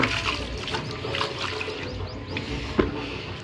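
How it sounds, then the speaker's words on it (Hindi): Water pours and splashes steadily for a few seconds onto plants, a close gurgling stream with a small knock partway through. "और अब लगाना हमें पौधन में पानी,"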